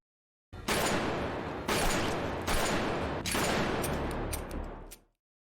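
Gunfire in a Korean heist TV series, a dense, loud, close fusillade of rapid shots in several long bursts with brief breaks between them before cutting off abruptly.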